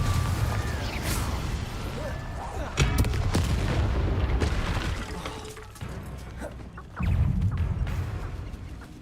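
Confringo and Incendio spells blast one after another in the Hogwarts Legacy video game, a string of loud, close booms and crackling bursts rolling over each other with brief dips between volleys.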